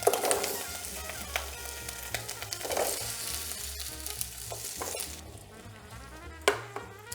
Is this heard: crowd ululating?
no